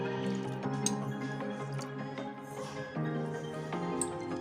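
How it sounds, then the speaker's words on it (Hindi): Water drips and trickles from a soaked lentil vada being gently pressed by hand for Holi kanji vada and dahi vada, with rapid small splashes and faint clinks close by. "इस तरह से बड़े को इस तरह से हल्के से पुश करके इसके पानी निकाल लीजिए।"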